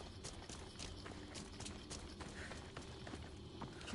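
Horse hooves clip-clop at a gallop in Assassin's Creed Odyssey, a quick rhythmic run of faint, distant beats with no talk.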